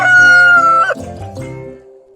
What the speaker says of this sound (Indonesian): Kita akan belajar tentang ayam.